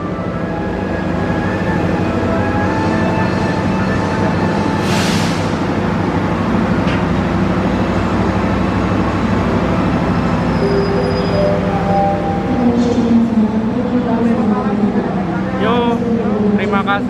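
A train rolls past on the railway near a station, a steady loud rumble with rail and wheel noise running throughout, with people talking over it.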